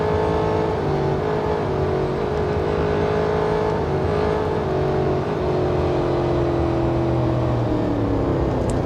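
An Aston Martin Vantage engine revs in the racing game Real Racing 3, a loud sustained whine that climbs and slowly sags in pitch as the car holds speed, with no voices over it.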